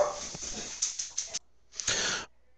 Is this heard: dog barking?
yes